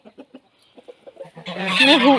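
Backyard farm hens give a few soft clucks, then break into loud, rising squawking clucks up close, with no talk over them.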